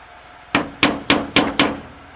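A hammer strikes a screwdriver to drive it into an old barn-find car part, giving five sharp metallic taps at a steady rhythm, close and loud against a quiet background.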